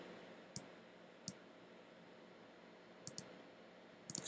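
A computer mouse clicks sharply in a quiet room, several faint isolated clicks spaced apart with a quick double click near the end.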